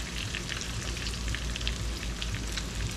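Parmesan-coated chicken frying in a pan, giving a dense, even crackling sizzle that holds steady and close for the whole stretch, with no speech.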